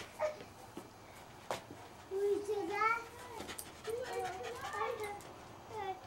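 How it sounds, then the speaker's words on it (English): A puppy whimpers and yips in short, high whining bursts close by, with brief barks and panting between cries, while people talk in the background. "The puppy dog's getting it"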